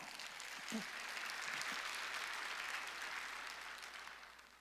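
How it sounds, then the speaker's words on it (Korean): A church congregation claps together at a Wednesday worship service, a steady wash of hand claps that swells slightly and then tapers off, with a brief voice near the start. "박수 좀 쳐줘요"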